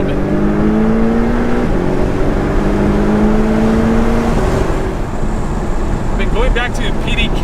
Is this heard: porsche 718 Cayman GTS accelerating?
yes